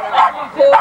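A dog lets out two quick barks or yips close by, a short sharp pair, with a person's voice mixed in.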